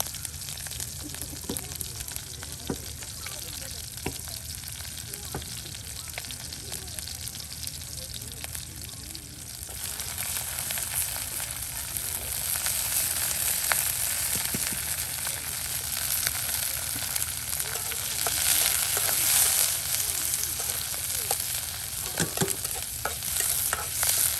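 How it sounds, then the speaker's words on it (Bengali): Onions and garlic frying for mashed potato bhorta, with a steady loud sizzle and frequent stirring scrapes through the whole stretch, and faint voices in the background. "আলু ভর্তার জন্য আপনার এই যে পেঁয়াজ রসুনগুলো এখন ভেজে নেওয়া হচ্ছে"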